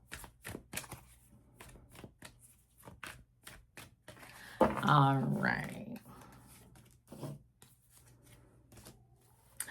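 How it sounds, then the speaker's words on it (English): Tarot cards are shuffled in quick riffling bursts near the microphone, with a brief spoken word and quiet pauses between. "Give the cards a couple of shuffles here."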